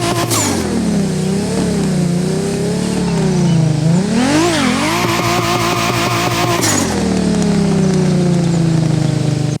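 An old tuned Japanese car in The Crew Motorfest revs hard with turbo whoosh and flutter, the engine note climbing and falling through sustained loud revs, with a sharp surge and high whine in the middle before settling back to a steady drone.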